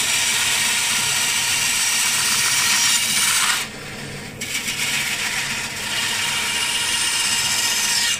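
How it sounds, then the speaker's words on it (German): A band saw slices away the plastic pocket of a Squall 60 multiplier fishing reel, a loud steady buzzing rasp that breaks off briefly midway, then resumes slightly quieter until the end. "Das beste Werkzeug zum Entfernen der Tasche ist definitiv so ein Sägeband."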